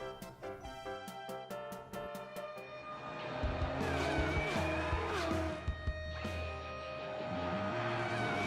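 A cartoon monster truck drives off with a rising, loud engine roar and brief tire squeals, running continuously after a short musical lead-in.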